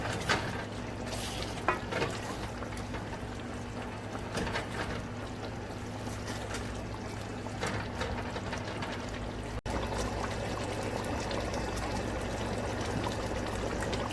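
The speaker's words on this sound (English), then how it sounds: "I'm just going to add a little bit of hot boiling water, not a lot, just to help the cooking process." Hot boiling water is poured into a cooking pot of curry chicken, a faint, steady trickling pour over a low background hum with a soft clunk near the end.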